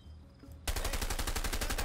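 Rapid automatic gunfire erupts in the video game A Way Out, a dense, loud machine-gun rattle that cuts in abruptly after a quiet moment and keeps going steadily.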